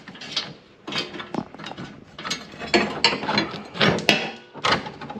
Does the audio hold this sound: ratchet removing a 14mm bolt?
yes